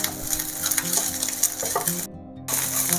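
Mint leaves fry steadily in a pan while pudina podi is being made, a dense, close crackling sizzle that drops out briefly near the end before resuming.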